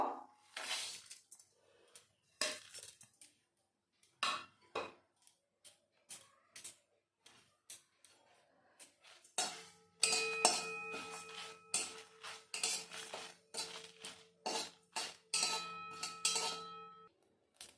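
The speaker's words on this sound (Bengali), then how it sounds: "এখন আমি এই শুকনো লঙ্কার এই জিরেগুলো শুকনো খোলায় ভেজে নেবো" Dried red chillies and cumin seeds being dry roasted in a kadai on a gas stove, heard as sparse clinks and scrapes against the pan, with a steady hum joining partway through.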